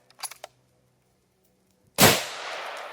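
.30-06 rifle with Remington Core-Lokt ammunition fires a single loud, sharp shot that booms and trails off in a long decay, preceded by a few faint clicks of handling.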